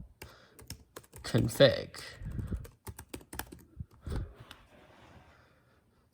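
Keys clatter on a computer keyboard as a terminal command is typed, a quick irregular run of close clicks with a voice speaking briefly over them.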